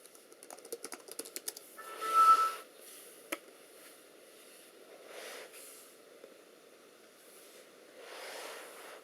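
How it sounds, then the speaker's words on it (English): Keys clatter as a passcode is typed on an Alienware 14 gaming laptop keyboard, a quick burst of close, light taps followed by a single later tap and soft background hiss. "I'm going to input my passcode"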